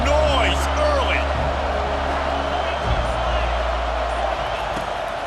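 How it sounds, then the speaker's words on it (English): A stadium crowd roars in EA Sports College Football 25, a steady wash of distant cheering and noise with a faint whistle-like sweep near the start and occasional thuds. "This crowd bringing the energy and noise early."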